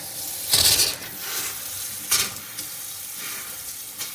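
A faucet spurts and sputters from air in a well water line, two loud bursts of hissing spray, with smaller gurgles and drips between them and no talking.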